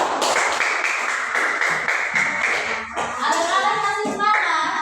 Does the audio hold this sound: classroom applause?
yes